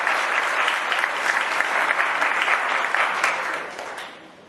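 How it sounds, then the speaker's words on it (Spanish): Dense, steady applause from an audience honoring students and teachers at a Bogotá school-district education event fills the room, holding strong before fading toward the end. "vale un aplauso para ustedes y para todos los maestros y maestras"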